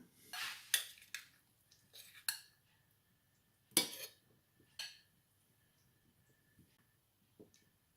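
Chickpea curry is served onto plates with cutlery and dishes, giving a handful of separate clinks, taps and scrapes spaced out over several seconds, close by with quiet gaps between them.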